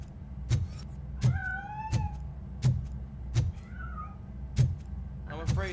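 A cat meows in the video game RoboCop: Rogue City, a few drawn-out mews heard amid regular heavy thuds, like footsteps, with a short rising cry near the end.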